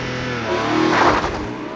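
A 2020 Porsche 718 Boxster Spyder accelerating hard from a launch, its engine note loud and close, swelling briefly to a peak before easing slightly, with no talking.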